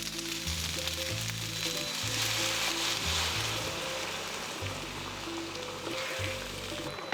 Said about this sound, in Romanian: Când puiul începe să se rumenească, adăugăm usturoiul și lăsăm la călit pentru 30 de secunde.